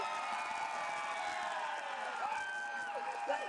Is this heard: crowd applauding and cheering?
yes